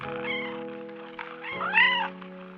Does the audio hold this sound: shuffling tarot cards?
no